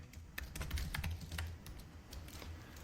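Keystrokes on a computer keyboard while entering text into an AI agent tool builder, a quick irregular run of close clicks and taps with a soft steady background hum.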